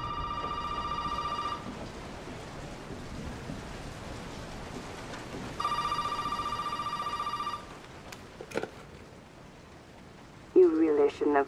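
In the survival horror game Resident Evil 7, a telephone rings in two long electronic bursts with a pause between, set over a steady patter of rain; a voice speaks briefly at the end.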